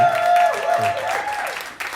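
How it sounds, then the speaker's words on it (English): Audience applause at an open mic night, a dense burst of clapping filling the room, with a voice speaking briefly over it. "let's give a big round of applause to her really quick"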